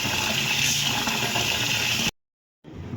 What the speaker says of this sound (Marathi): आपण हा 2 ते 3 पाण्याने पुन्हा धुवून घ्यायचा आहे